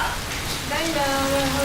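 Steady rain falls at night, a continuous hiss throughout while a voice speaks over it.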